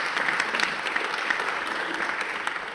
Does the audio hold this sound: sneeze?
no